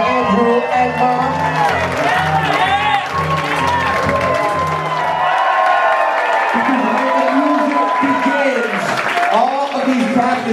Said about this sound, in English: Nice big round of applause out here once again for Andrew and Mom.